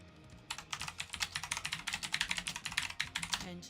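Rapid typing on a computer keyboard, a quick run of crisp key clicks starting after a brief quiet moment and continuing steadily at close range.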